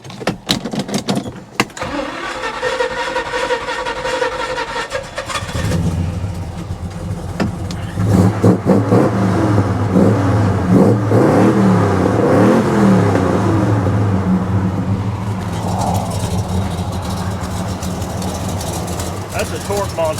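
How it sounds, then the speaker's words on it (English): A 1969 Chevelle SS V8 with a small exhaust leak cranks, catches and roars to life, then revs up and down several times with a deep, rumbling exhaust, loud and close. "I'm gonna start it up real quick just to verify that it runs now"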